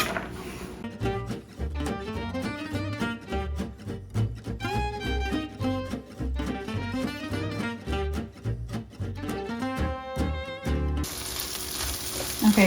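Meat heating in a pot on the stove sizzles and crackles steadily for the whole stretch, with dense overlapping pops, then a brighter, washier hiss near the end, as in a one-pot dinner being cooked.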